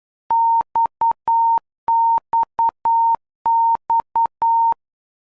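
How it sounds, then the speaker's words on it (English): Morse code XXX sent as an aviation sound signal: a clean, steady beeping tone spelling dash-dot-dot-dash three times in a row, crisp and evenly timed, with no voices. "The sound signals are Morse code"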